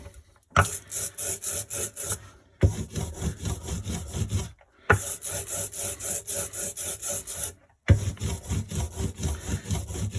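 Paper being rubbed over an inked, carved bug block to pull a block print: four long bursts of brisk, rhythmic scraping strokes, close and fairly loud, separated by short silent pauses.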